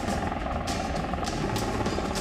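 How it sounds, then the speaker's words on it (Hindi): A Russian helicopter flies over Kharkiv, Ukraine, its rotor producing a steady rhythmic thudding chop over a constant engine drone, fairly loud and continuous with no voices. "खार्किव और यूक्रेन के दूसरे शहरों पर रूस के हेलीकॉप्टर गश्त कर रहे हैं।"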